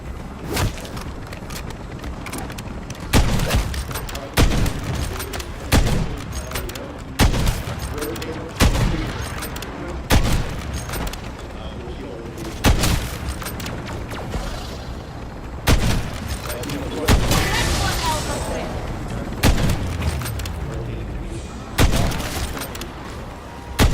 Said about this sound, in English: strike team, lay down some cover fire